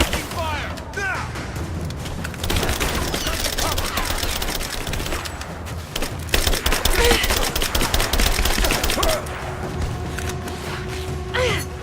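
Rapid gunfire fills a firefight in Rise of the Tomb Raider, with dense bursts of crackling shots and booms that are close and loud, alongside intermittent shouted voices.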